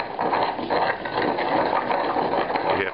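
Basil and coarse salt are ground together into a paste for a roasted cauliflower pasta, making a steady, close, gritty scraping and crunching that continues without pause.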